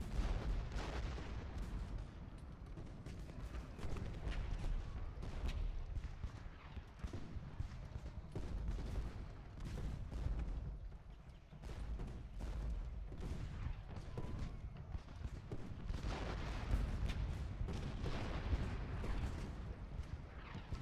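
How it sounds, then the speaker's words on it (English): Artillery duel in the Civil War strategy game Ultimate General Gettysburg: repeated booming cannon shots at an irregular pace, mixed with rumbling battlefield noise and what sounds like horses' hooves. "You can see we're winning the gunnery duel handily."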